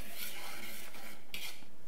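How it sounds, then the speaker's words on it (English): Light whisking of dry biscotti ingredients, flour with baking powder and salt, in a bowl: a faint, soft, continuous scratchy rasp of the whisk stirring through powder, close by and alone. "And then we will give this a light whisk."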